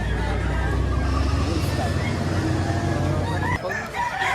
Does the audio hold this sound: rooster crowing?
yes